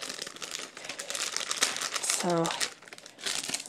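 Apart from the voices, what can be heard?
crinkling packaging of LEGO sets being opened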